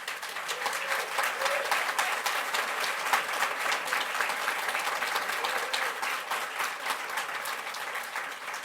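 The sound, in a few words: audience applause at board meeting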